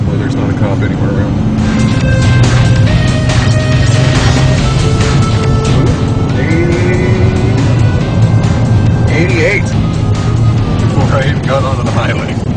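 A 2010 Dodge Ram 3/4 ton pickup accelerates onto a highway, its engine roaring loud and steady from inside the cab with constant road noise, while people talk over it throughout.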